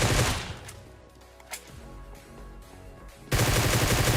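Gunfire in a PUBG (BGMI) solo-versus-squad match: a loud, dense burst of shots at the start and again near the end, with quieter in-game ambience and a single faint crack in between.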